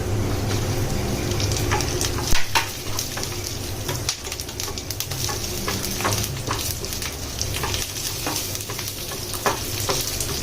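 Garlic, chili and cumin sizzle steadily in a hot pan for an Indian idli dish, a close continuous frying hiss broken by occasional stirring scrapes and clinks.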